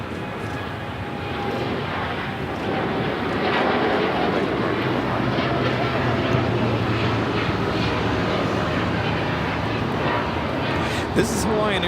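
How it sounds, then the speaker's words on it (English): A Hawaiian Airlines Boeing 787-9 Dreamliner taking off at Los Angeles airport, a steady rumbling jet roar at moderate distance with a low drone underneath, while people talk over it. "This is Hawaiian Airlines Flight 3 taking off to Honolulu on the 787-9 Dreamliner."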